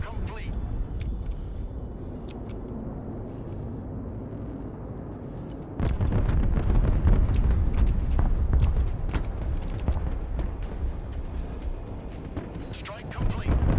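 Airstrike explosions in the video game Broken Arrow, a rumbling barrage of booms that swells into dense, heavy blasts partway through, sustained and loud with crackling bursts layered on top.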